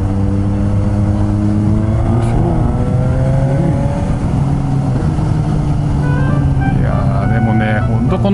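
A Suzuki GSX-S750 motorcycle engine drones loud and close while riding, its note climbing and dipping through gear changes under steady wind rush.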